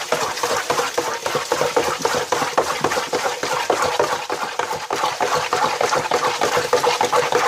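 A plastic stirring paddle swished through fermenting Coopers IPA home brew wort in a fermenter, giving a continuous close, rhythmic sloshing and churning of liquid with no talk.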